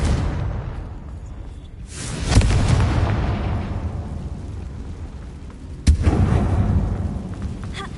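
Confringo spell blasts going off inside a closed mine in Hogwarts Legacy, two heavy booming explosions, each followed by a rumbling, crackling tail, loud and close over low game ambience.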